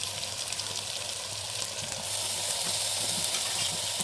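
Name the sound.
chicken cooking in a pressure cooker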